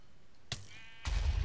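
A single sheep bleat from the video game Minecraft SheepWars, short and close, preceded by a brief click.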